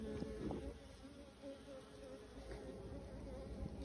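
Honeybees hum around an open hive frame packed with pollen-filled cells, a steady soft buzzing close by with faint individual bees passing.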